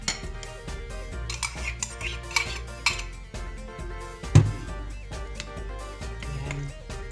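Cooked eggplant is stirred together with three eggs in a bowl for tortang talong, with a steady run of close utensil scrapes and light clinks against the dish and one sharper knock partway through.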